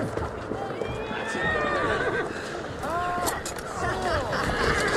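A horse in Assassin's Creed Syndicate whinnies several times over clip-clopping hooves and busy street bustle, while voices talk throughout.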